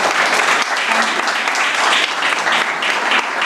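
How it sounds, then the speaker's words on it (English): Loud, dense applause from an audience at a youth tourism congress in Nevis, continuous and close, filling the whole moment. "Please clap for her."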